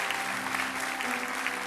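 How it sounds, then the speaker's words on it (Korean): A church congregation at a Sunday worship service claps in blessing during an infant baptism, a brief burst of dense, even applause filling the room. "박수로 축복해 주시죠."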